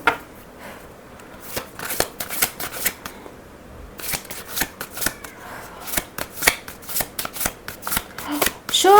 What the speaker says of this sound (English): Let's see the message from the Akashic Oracle.